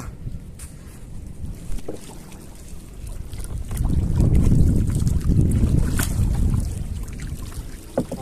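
Gusty wind roars across a small outrigger fishing boat near a breakwater, rising to a heavier, louder buffeting in the middle before easing slightly, with faint splashing and no speech.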